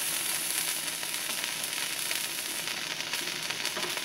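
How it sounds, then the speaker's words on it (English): Green onion and Thai chilies sizzle steadily in hot oil in a pan, a dense continuous crackling fry close up with no talking. "I'm going to add in my green onion. and my 3 Thai chilies. Allow that to saute for about 2 to 3 minutes"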